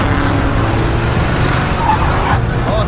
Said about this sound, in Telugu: ఏంట్రా ఎప్పుడు లేని ఈరోజు ఇంత ట్రాఫిక్ ఉంది